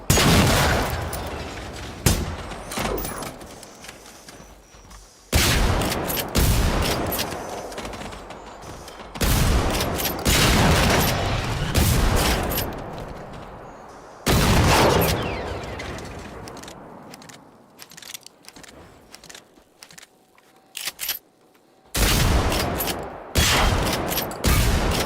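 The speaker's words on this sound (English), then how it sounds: "Shotgun's pretty solid." Loud, heavy shotgun blasts in the open-world shooter game Generation Zero, booming at irregular intervals several seconds apart, with long rumbling decays and ambient noise between shots.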